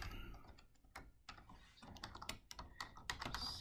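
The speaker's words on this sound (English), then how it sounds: "And you type in your address." Computer keyboard keys being typed in quick, uneven bursts as an address is entered into real estate listing software, with close, crisp clicks and short pauses between runs.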